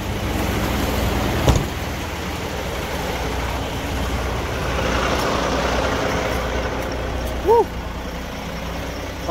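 Heavy truck cruising on the road, heard from the cab as a steady low engine and road rumble, with a sharp knock early and a short squeaky chirp near the end; no one speaks.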